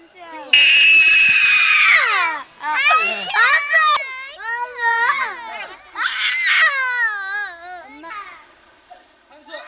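A young child screams and sobs loudly and close up, struggling in distress at the arrival of a daycare van, with wailing cries rising and breaking continuously through the whole stretch.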